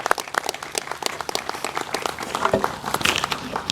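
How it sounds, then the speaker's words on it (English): Community audience applauding at a State Highway 99 Live Oak streetscape and roadway improvement event, with dense, uneven clapping that stays fairly steady throughout. "give a big applause to every one of you"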